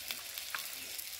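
Potatoes dropped into hot oil while cooking a daliya dish, giving a steady, close sizzle with a few light crackles and pops and no talking.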